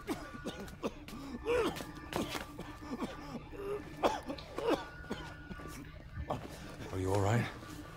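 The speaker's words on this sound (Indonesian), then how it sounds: "Ada yang batuk." A game character in Resident Evil 6 coughs a few times, the harsh bursts scattered among in-game dialogue and ambient sound effects.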